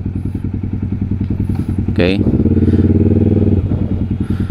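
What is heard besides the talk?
Triumph Daytona 675 triple-cylinder motorcycle engine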